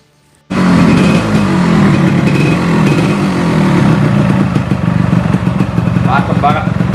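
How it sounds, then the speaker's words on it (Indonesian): A 2009 Yamaha RX King motorcycle with mostly original parts starts abruptly and idles close by, a loud, steady two-stroke engine rumble with slight uneven pulsing throughout. "kita nyalakan untuk suara mesinnya."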